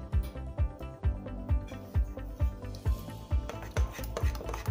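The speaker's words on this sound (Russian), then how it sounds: "Хорошенько перемешиваем все" Spoon scraping and stirring mashed dogwood berries with sugar in a bowl, rhythmic rasping strokes about three per second, close and clear with no talk.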